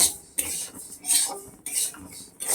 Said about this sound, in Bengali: এবার হালকা করে এগুলোকে ভেজে নেবে একদম লো ফ্লেমে এটাকে হালকা করে ভেজে নিতে হবে